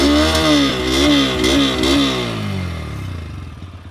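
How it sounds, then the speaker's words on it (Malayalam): Bajaj N125 motorcycle, top variant with automatic start-stop, revving through its exhaust: a few quick throttle blips rising and falling in pitch over a loud, close engine note, then settling toward a steady idle. "അപ്പോൾ ഞാൻ എക്സോസ്റ്റ് നോട്ടൊന്ന് കേൾപ്പിച്ചിട്ടാണ് നിങ്ങൾക്ക്."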